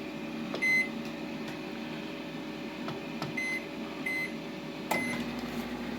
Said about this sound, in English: we keep these hot dogs in that microwave